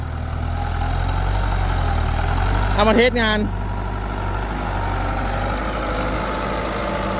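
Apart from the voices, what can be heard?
New Holland TD90 four-cylinder turbo tractor engine idling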